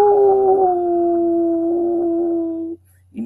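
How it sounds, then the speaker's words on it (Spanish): A single dog gives one long, loud, sustained howl close by, holding a steady pitch for nearly three seconds before breaking off into silence. "Y el perro comienza a aullar."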